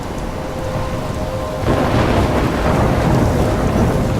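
Heavy rain pours steadily in a Life Is Strange thunderstorm, then a loud rumble of thunder breaks in and swells, leaving a dense roar of rain and thunder with no talking.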